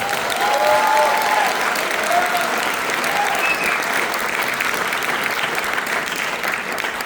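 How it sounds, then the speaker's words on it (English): Thunderous, sustained applause from a large graduation audience for the students, a continuous dense roar of clapping with faint cheers, loud and even throughout. "give one more thunderous round of applause for the students who made"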